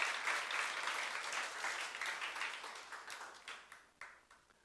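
A church youth congregation claps together in steady, sustained applause that gradually thins and tapers off, with a few last scattered claps near the end.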